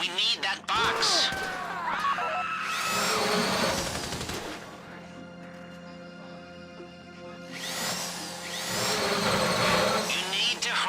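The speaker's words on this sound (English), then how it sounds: "If the drill burns out, this whole thing will take too long." A drill grinding into a safety deposit box in GTA Online, loud whining bursts that rise and fall in two long passes with a quieter hum between, mechanical rattles and strained pitch shifts throughout.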